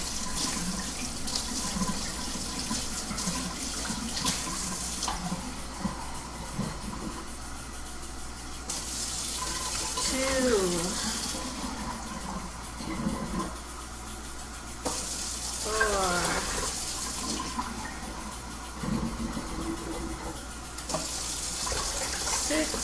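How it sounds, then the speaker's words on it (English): Warm water running steadily from a kitchen tap into a measuring cup, a broadband hiss that starts and stops in bursts as cups are filled for homemade buns, with faint handling clatter between pours. "now I need 7 cups of warm water"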